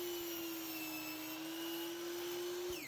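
Sliding miter saw with its blade set to 45 degrees spinning steadily as it cuts the edge of a board for a small woodworking bowl, a loud continuous whine with a sharp drop-off near the end, no talking.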